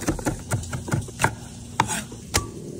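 Onion being chopped on a cutting board, a series of close, irregular knife thuds and clacks, about a dozen strikes with short pauses between them.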